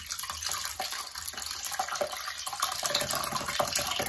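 Kefir whey is poured through a filter onto kefir grains, a steady close liquid trickle and splash that runs continuously without talk.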